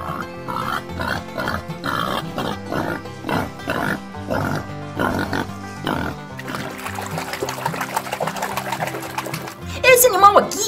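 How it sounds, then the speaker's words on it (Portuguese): Repeated grunts from a babirusa, a wild pig species, come in a rhythmic series of close bursts before giving way to busier, music-like sound near the end. "Esse animal aqui é o babirusa. Ele é uma espécie de porco selvagem."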